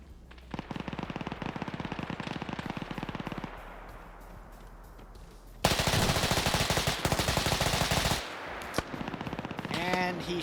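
Machine guns fire in bursts during a Middle Eastern WW2-era multiplayer match, a rapid stuttering run of shots, then a louder continuous volley and more bursts, with faint talking underneath.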